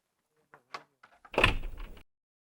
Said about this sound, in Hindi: खोल दरवाजा।